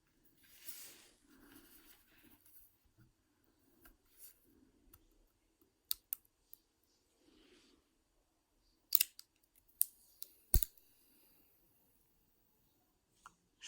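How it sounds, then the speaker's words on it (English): Protective plastic film is peeled off a new smart power bank. Faint crinkles give way to several sharp, isolated crackles and snaps separated by quiet pauses. "Let's peel the plastic, shall we?"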